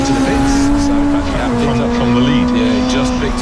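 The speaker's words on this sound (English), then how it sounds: "there's Alfie Jones screaming past in the orange in V3" A tin top touring race car screams past on the Castle Combe circuit, its loud, sustained engine whine sliding slightly in pitch as it goes by, with a commentator talking over it.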